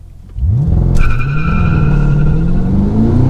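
A 2022 Cadillac CT5-V Blackwing with manual gearbox launches hard, its engine roaring up loudly and steadily in pitch while the tires squeal in a sustained high whine, heard close from inside the car.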